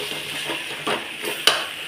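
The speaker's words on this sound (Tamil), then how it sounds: "இப்போது வதக்கிக்கிடலாம்." Tomatoes with Kashmiri chili powder sauté in a pan for a brinjal, drumstick and potato kootu, with soft sizzling under brief stirring scrapes and one sharp utensil clink near the end.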